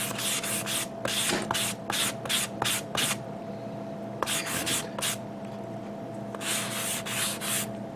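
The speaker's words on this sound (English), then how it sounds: "Some areas needs to be sanded down, like here, this section here." Rapid rhythmic scraping of sandpaper on a hard plastic model kit part, in quick bursts of short strokes with brief pauses between them, close up.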